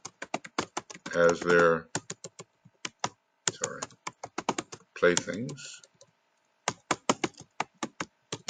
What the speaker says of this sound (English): Not typing very well there.